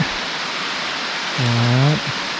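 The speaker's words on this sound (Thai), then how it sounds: "บรรยากาศตอนฝนตกนะครับตอนนี้" Steady rain pours at Tham Phra Nong Pla Pha cave near Thakhek in Khammouane, Laos, as an even, close hiss, broken briefly near the end by a short droning tonal sound.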